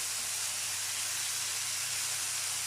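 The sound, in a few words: lardons (bacon bits) frying in a pan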